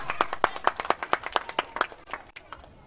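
Rapid rhythmic clapping from a local cricket premier league crowd, about a dozen sharp claps in quick succession that fade out, with a faint commentary voice underneath.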